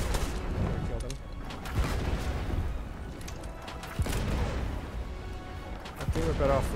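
Repeated booming ship cannon shots thud at irregular intervals in the video game Blazing Sails, with a rumbling game soundscape between blasts.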